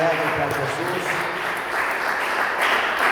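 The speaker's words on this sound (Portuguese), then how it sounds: "dê uma salva de palmas bem alegre para Jesus." Church congregation at a worship service applauding loudly and steadily throughout, a dense wash of clapping with some voices mixed in.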